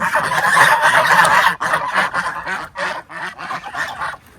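A flock of large white domestic geese gives loud, near, repeated honking calls, overlapping at first and then breaking into separate bursts.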